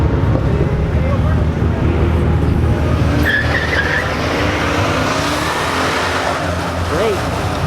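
Cars at a late-night Chicago car meet rev and squeal their tires, loud engine roars and skidding sounds close by with a steady crowd murmur and voices mixed in underneath.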